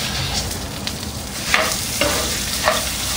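Garlic and jalapeno sizzle with golden-browning rice in a Dutch oven, a close, steady frying hiss broken by a few scraping stirs of a utensil against the pot.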